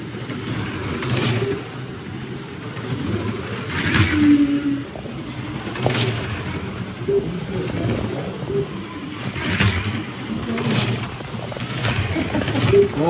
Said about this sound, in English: You can hear Brad's car as it comes through the floor.